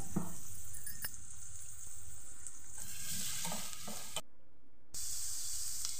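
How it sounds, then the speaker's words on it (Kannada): Two large, finely chopped onions frying on a low flame, a steady close sizzle with faint stirring scrapes and a brief dropout near the end. "ಈಗ 2 ದೊಡ್ಡ ಈರುಳ್ಳಿ ಸಣ್ಣಗೆ ಕಟ್ ಮಾಡಿ, ಇದು ಸ್ವಲ್ಪ ಬಾಡುವವರೆಗೆ ನಾವು ಲೋ ಫ್ಲೇಮಲ್ಲಿಟ್ಟು ಹುರಿಯುವ ಇದನ್ನು"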